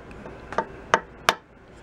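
Light taps seating a part flush inside the shell of a 1936 Slingerland Artist Model snare drum being restored: three short, sharp knocks spaced evenly, close and fairly quiet, over a faint room hiss.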